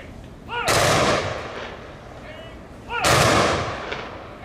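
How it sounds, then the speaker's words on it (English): Ceremonial rifle volley at a 2018 Memorial Day ceremony: two loud outdoor volleys about two seconds apart, each a sharp crack with a long echoing tail. "They'll be firing weapons"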